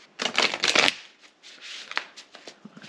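Tarot deck, a Crow Tarot set, being cut and shuffled by hand: a dense close riffle of cards, then quieter scattered taps and slides of the cards, no speech.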